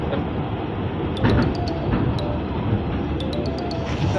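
A passenger train leaving Rewari junction rolls along with a steady, loud rumble of wheels and carriage noise heard from inside, with a few faint clicks and a voice talking over it.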